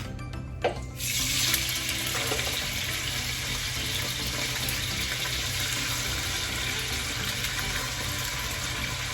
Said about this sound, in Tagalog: Pinapride ko po muna yung tokwa.